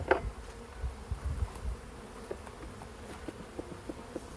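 Soft, steady buzzing of many bees in an opened beehive during an inspection, with faint clicks and taps over the drone and no voices.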